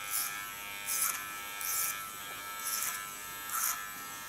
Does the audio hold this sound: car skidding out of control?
no